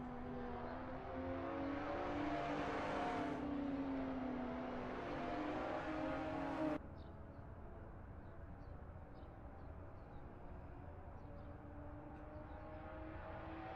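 The RPM BMW race car engine in a sim racing event at Imola drones steadily at high revs, rising and dropping with gear changes before settling into a quieter, distant hum, with no talking.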